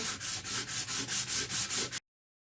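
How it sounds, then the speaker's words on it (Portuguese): Sandpaper rubbing over a vase made from milk cartons, about nine rhythmic back-and-forth scratchy strokes in two seconds, close and alone, then silence. "A lixa, galera, não precisa forçar muito, certo? Vai tirando devagarzinho."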